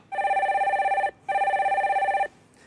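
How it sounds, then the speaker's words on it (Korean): Two rings of a telephone bell as a viewer's call comes through on a live broadcast phone-in, each ring about a second long with a brief pause between, clear and alone. "다음 전화 연결해 주세요."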